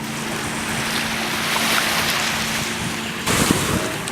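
Waves wash onto a busy beach at Saugatuck Dunes State Park on Lake Michigan, a steady broadband surf wash with wind noise across the mic and a slightly louder surge near the end.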